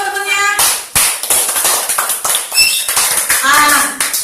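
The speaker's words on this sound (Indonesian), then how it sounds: "Kasih tepuk tangan buat temennya." A classroom of students claps for a classmate in a short, uneven burst of close hand claps and taps, with children's voices talking and chattering over it.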